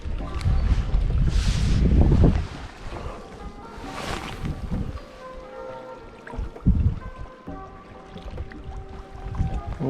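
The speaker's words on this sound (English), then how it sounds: "Man, the wind's picked up like crazy, dude." Strong gusty wind buffeting the microphone on a small 12-foot skiff while fishing on Castaic Lake, loud rumbling bursts that rise and fall, with quieter lulls between gusts.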